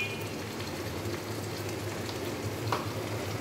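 Chilli and coriander paste with turmeric powder fries in a pan for a Bengali mustard pabda fish curry, giving a steady close sizzle with a faint scrape or two and no talking.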